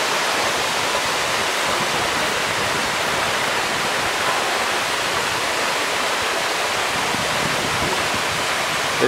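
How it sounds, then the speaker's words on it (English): Muddy stream water rushes loudly and steadily along a steep hiking trail, a continuous broadband roar with no pauses and no voices. "The water sounds great. It's muddy, but it sounds great."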